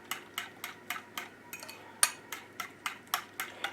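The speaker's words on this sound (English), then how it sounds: "I'm just going to go ahead and start stirring" Garlic salt being stirred into a crouton mixture, a spoon knocking and scraping against the bowl in a steady series of about a dozen light taps close by, with no talking.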